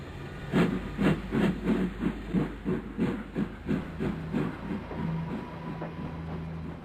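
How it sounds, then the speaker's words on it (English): Steam locomotive pulling a special train along a new line, with a steady rhythmic chuffing beat that slows and fades into a smoother rolling rumble, moderately close with no talk. "Soon, Archibald and his special train were thundering along the new line."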